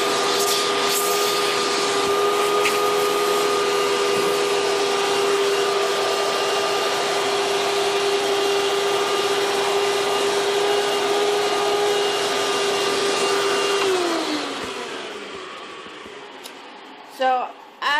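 A Hoover Preferred vacuum cleaner runs steadily at close range with a loud, constant motor whine and suction roar while cleaning a couch, then winds down near the end, followed by a couple of brief knocks.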